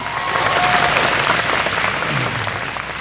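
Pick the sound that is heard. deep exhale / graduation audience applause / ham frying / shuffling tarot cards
graduation audience applause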